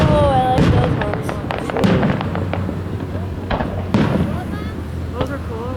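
Fireworks at a July 4th show in South Haven, Michigan, including mortar shells, bursting as a run of sharp booms and crackles at a distance, with people talking and exclaiming over the display.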